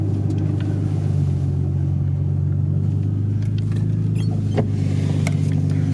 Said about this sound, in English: the car's warming up, but we're gonna take it around the block and get some sound shots